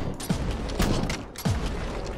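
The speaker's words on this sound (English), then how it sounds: "Shotgun and a 50 cal" Shotgun blasts and heavy .50 caliber rifle shots ring out in a video game firefight, three loud booming reports spaced about half a second apart over dense, continuous background game noise.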